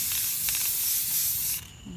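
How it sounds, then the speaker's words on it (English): A spray can mists clear coat sealant onto a tumbler cup in one steady hissing burst lasting about a second and a half, close to the listener, before it cuts off. "I'm going to spray my cup with the clear coat"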